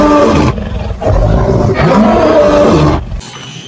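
A lion's roar, loud and close, rumbles in a few sustained bursts for over three seconds before cutting off abruptly.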